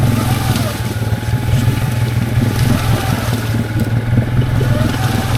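Can-Am Outlander XMR700 ATV engine droning steadily while churning through thick swamp weeds, loud and continuous with a low rumbling tone.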